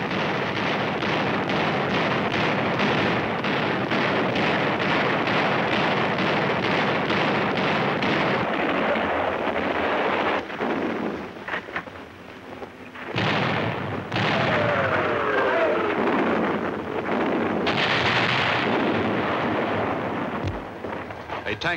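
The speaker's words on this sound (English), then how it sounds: "The vessels move almost to the shore to fire point blank into the Japanese positions" World War II naval ships' guns fire point blank at Japanese positions near the shore, producing dense, continuous booming and rumbling blasts under narration, with heavy bursts toward the end.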